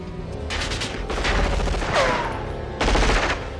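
Bursts of rapid gunfire crackle loudly in several volleys from the 1988 film Die Hard, with a brief lull between them, like a movie action scene.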